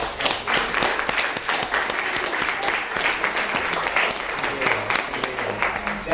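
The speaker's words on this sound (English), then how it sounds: "A round of applause for Christian Yoga." An audience breaks into sustained applause, dense loud clapping that fills the room continuously for several seconds, close and alone.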